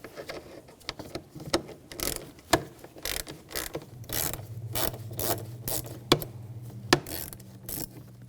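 A ratchet with a 5mm hex socket clicks in quick bursts while removing a bolt from a 2007-2013 BMW X5 3.0L L6 starter, with sharp metallic clacks mixed in and a low hum underneath; no talk.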